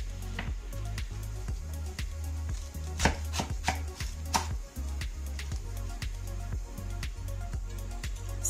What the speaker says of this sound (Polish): potrzebuję tylko kilograma kapusty, więc kroję na pół